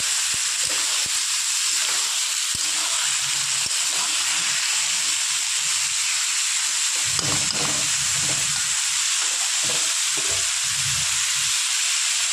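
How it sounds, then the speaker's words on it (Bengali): Small diced potatoes fry in a pan for a homestyle potato chorchori, with a constant hissing sizzle and occasional scraping knocks as they are stirred. "ভালো করে আলুটাকে নাড়িয়ে ছেড়ে একটু ভাজা ভাজা করে নেব।"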